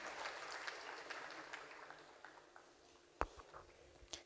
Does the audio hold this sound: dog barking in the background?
no